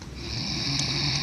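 A person snores in one drawn-out, rasping breath, close and fairly loud, with a steady droning tone.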